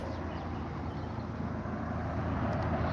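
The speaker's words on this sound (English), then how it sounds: "There's traffic on the road outside." Road traffic passing outside on a street in Cardiff, a steady broadband rumble of cars at moderate distance, even and continuous with no distinct passes and no talking.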